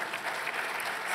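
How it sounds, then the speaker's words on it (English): Dense audience clapping at a play equity summit on sports, a short steady burst from a crowd at even loudness. "you can clap for that."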